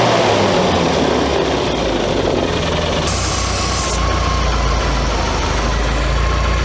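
A classic Mini's engine, idling hot with an air leak, runs loudly up close with a low, rough rumble and a steady hiss, the tone shifting slightly partway through.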